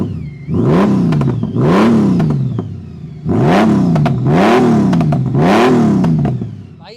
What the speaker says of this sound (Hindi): एक बार आप इस बाइक की भी आवाज़ सुनो